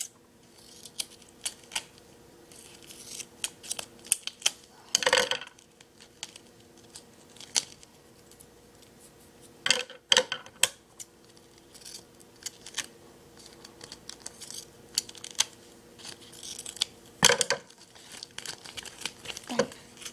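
Scissors cut material to even it out, giving scattered soft snips and crinkling handling noises at close range over a quiet background, with a few louder rustles.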